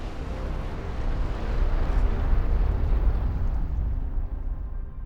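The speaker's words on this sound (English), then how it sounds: "Coronal mass ejections are the most violent explosions in the entire solar system." An explosion effect depicting a coronal mass ejection from the Sun: a deep, roaring rumble that swells and then slowly fades over about five seconds.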